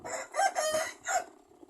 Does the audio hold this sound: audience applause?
no